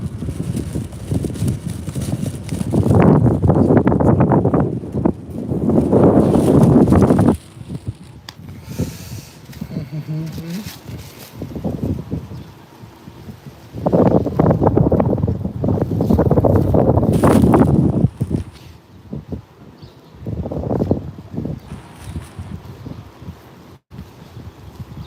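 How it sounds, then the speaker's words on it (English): Strong outdoor wind buffets the microphone in loud rumbling gusts that rise and fall, with calmer gaps between them. "Yeah, it's windy."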